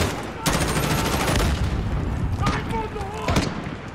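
Rapid bursts of gunfire ring out in a Call of Duty Modern Warfare embassy mission, sharp repeated shots and a couple of louder blasts over a constant battle din, with faint voices underneath.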